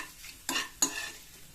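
Garlic and ginger hit hot tempering oil for rajma masala, giving two quick, bright bursts of sizzle with the stir of a spoon, close and alone.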